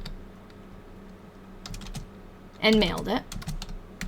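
Brisk clattering keystrokes on a computer keyboard, quiet at first and then a louder burst of rapid taps, with a voice speaking briefly over them.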